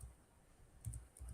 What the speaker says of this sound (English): You're typing something.